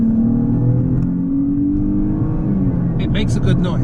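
A 2021 Dodge Charger GT accelerates from cruising, its engine note rising steadily in pitch as it revs, loud and close, with a whir underneath.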